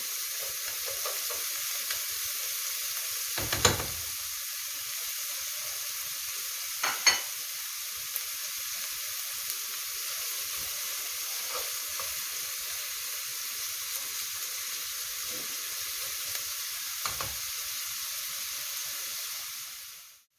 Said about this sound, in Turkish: Soğanlar pembeleşene kadar ya da hafif sarayana kadar kızartalım.